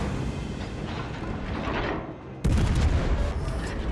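Heavy naval guns on the Zao heavy cruiser in a warship game boom in a dense rumbling salvo, with a sharp louder blast partway through, loud and close.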